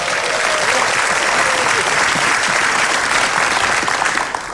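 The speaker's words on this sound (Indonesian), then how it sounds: "Tepuk tangan buat orang Indonesia yang baik." Studio audience at an Indonesian television comedy talk show breaks into loud, sustained applause, dense clapping filling the whole stretch with a few cheers underneath, staying steady before easing slightly at the very end.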